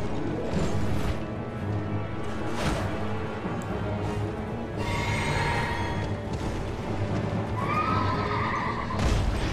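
A horse in the video game Elden Ring whinnies several times over quick clip-clopping hoofbeats, with some crashing game effects mixed in at moderate volume.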